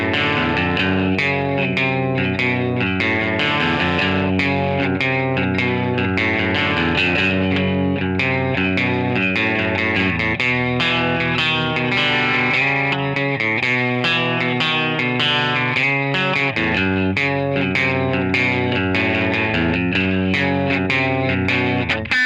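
Distorted electric guitar played through a 100-watt amp, loud sustained chords and riffs with a fuzzy, chorus-like warble ringing continuously without pause.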